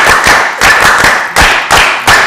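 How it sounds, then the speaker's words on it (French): A few people clap hands in loud, sharp bursts, grouped in short uneven clusters of quick slaps close to the microphone, with brief pauses between groups. "Je vous ai dit qu'il ne faut pas applaudir comme ça."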